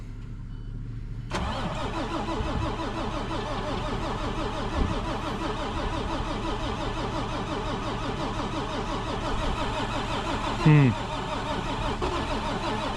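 An engine cranks in cold weather and catches quickly, then settles into a steady, rumbling idle close by, with voices briefly audible over it.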